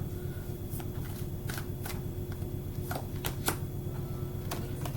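Tarot or oracle cards shuffled for a card reading, a continuous close riffle of flicking and tapping with a few sharper snaps, over a steady low hum.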